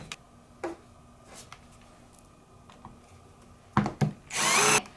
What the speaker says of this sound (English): We're gonna get our screws, change our drill bit. Same thing, you're just going in those holes you just made.